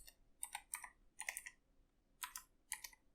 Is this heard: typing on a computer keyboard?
yes